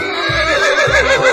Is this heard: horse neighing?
yes